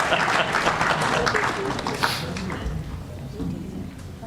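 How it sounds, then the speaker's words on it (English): A crowd claps at a Torah dedication ceremony in a synagogue. The applause is full and lively at first, then gradually thins and softens toward the end, with no speech over it. "You can clap if you want."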